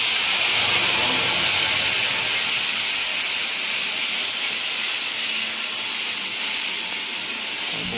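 Soaked spice paste hitting hot oil with cumin and nigella seeds for a Rajasthani kachri curry, a loud steady sizzle and hiss close by that holds evenly throughout with no talking.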